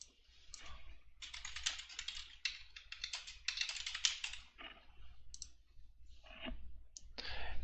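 Computer mouse clicks and keyboard-like tapping at a desk while running a document scan and OCR process, a quick irregular run of light, close clicks with brief pauses, no talking.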